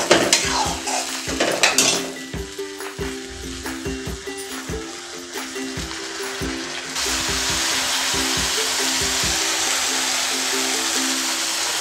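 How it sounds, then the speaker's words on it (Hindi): Tomato paste poured into hot masala in a pan for a drumstick curry: spoon clatters and scraping against the pan at first, then a loud, steady sizzle with a hum underneath, no talk. "अब हम टमाटर की चीज़ ऐड करेंगे जो हमने 3 टमाटर से बनाई थी।"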